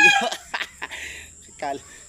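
A rooster, praised as a handsome fighting bird, clucks and calls in a few short bursts close by. Voices talk around and over it.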